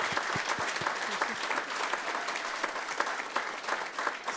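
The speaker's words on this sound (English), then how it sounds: "Can we clap for you?" City council meeting audience claps for a hometown hero, a sustained round of applause from a room full of people, steady and fairly close, with a few louder individual claps at the start and no talk.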